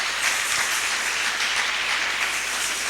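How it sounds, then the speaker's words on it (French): Steady, dense applause from a church congregation fills the space, loud and continuous throughout with no break. "On acclame, on acclame."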